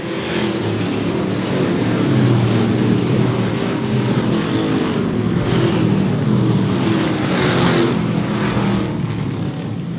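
Street stock race cars roar past at Seekonk Speedway, engines revving loud and continuous as the field accelerates off a corner, a dense, sustained engine drone throughout.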